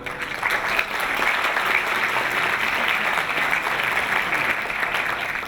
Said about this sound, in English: why don't we give them a big round of applause again